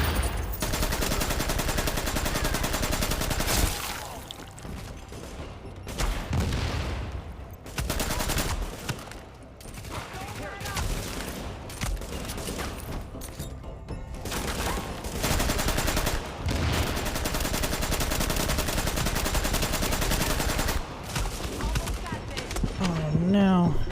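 Sustained, loud gunfire in The Division during an underground fight against a heavily armored enemy: rapid automatic bursts pile up almost without pause, with occasional short lulls, and voices talk over the shooting.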